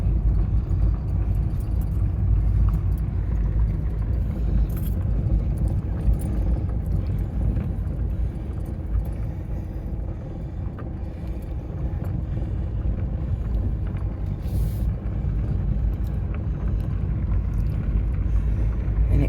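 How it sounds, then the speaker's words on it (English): Car driving around a curve on a cemetery road, a low continuous rumble of engine and tires with wind buffeting the microphone, steady throughout with no talk. "I'm in the car going on around the curve here at the cemetery."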